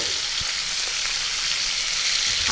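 Cauliflower, carrot and beans stir-fry in a hot pan for Bengali rui fish curry. The oil gives a steady, dense sizzle with no talking.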